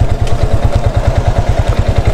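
An Italika 200Z motorcycle engine runs steadily during a tight turn, a loud, close, rapid low-pitched pulsing throb with no speech.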